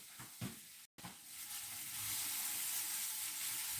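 Food sizzles and hisses steadily in a hot pan as it is stirred, with a few scraping stirs early on before an even, fairly quiet frying hiss settles in.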